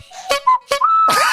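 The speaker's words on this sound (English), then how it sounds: "It's an ocarina. Ah, pocket ocarina." A small pocket ocarina plays a few short, breathy whistled notes in quick succession, then ends on one sustained note, loud and close.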